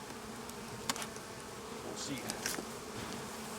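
Honey bees buzz steadily in an opened hive box, a dense continuous drone at low level with a few brief clicks and a short spoken remark over it.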